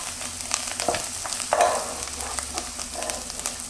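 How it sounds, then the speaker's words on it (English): Garlic fries with fresh parsley in a hot pan, giving a steady close sizzle with a few brief stirring scrapes and clicks over a short stretch, with no voice. "add the fresh parsley and cook the garlic with the parsley"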